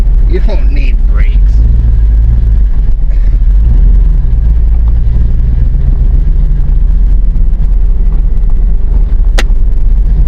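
An old GMC truck engine roars loud and steady while driving, a heavy low rumble that fills the whole stretch with road noise, and a voice speaks briefly near the start.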